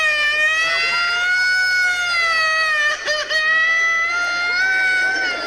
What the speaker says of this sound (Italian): è arrivata l'ambulanza